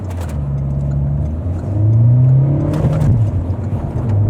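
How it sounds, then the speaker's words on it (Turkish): A Renault Latitude 1.5 dCi diesel engine idles, then revs up as the car pulls away from a standstill, the pitch climbing steadily, close and fairly loud. "Motor sesini de dinliyorsunuz bir yandan"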